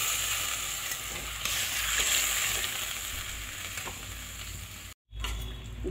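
Potatoes frying in a pan for aloo posto, a steady close sizzle broken by a short drop near the end as water goes in, then a renewed loud hiss and bubbling.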